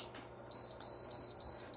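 Short electronic beeps from a deluxe air fryer oven's control panel as the timer is set, a quick series of clear, close tones at an even pace, no talk.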